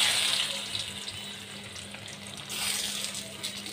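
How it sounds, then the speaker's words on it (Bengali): Hilsa fish fries in oil in a pan, a steady moderate sizzle with hissing swells that could be mistaken for running water, no voices. "অনেক দিন পর ইলিশ মাছ ভাজতেছি"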